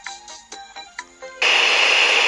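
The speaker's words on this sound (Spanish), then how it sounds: "Esa es la emisora." A Wster WS-159A portable radio gives a few short electronic beeps, then abruptly switches to a loud, steady broadband hiss of station sound that continues to the end.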